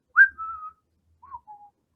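A person whistling in imitation of the Nintendo eShop menu jingle: a short rising-then-held whistled note, a pause, then two softer brief whistled notes, close and clear against silence.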